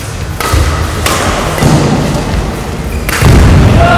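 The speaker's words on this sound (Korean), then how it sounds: "아, 멋지게 슬라이딩을 해봤지만 여긴 코트 매트라서 되게 아프실 텐데" A badminton player slides and thuds heavily onto a court mat during a mixed doubles league match, giving several dull low thumps over a steady indoor background.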